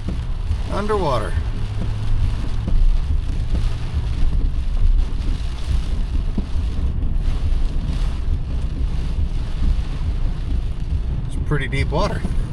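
Heavy downpour drums steadily on a car while it drives through deep flood water, a dense constant wash of rain and splashing with wind noise, and brief voices near the start and end.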